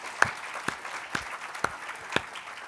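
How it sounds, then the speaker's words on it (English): Audience applause for caregivers in a room, a soft, steady patter of clapping with a few sharper individual claps standing out at regular intervals, moderately near and without talk. "let's have a round of applause for the caregivers in the room"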